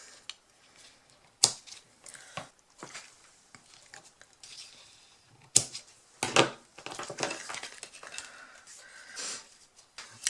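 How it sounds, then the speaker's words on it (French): The edges of a scrapbook gift card holder are trimmed, producing irregular sharp snips and crisp paper rustles, close and fairly quiet, with scattered handling clicks between cuts. "je coupe tout simplement les bords"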